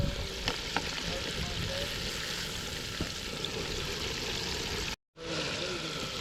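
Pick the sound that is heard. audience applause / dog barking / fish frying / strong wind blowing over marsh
fish frying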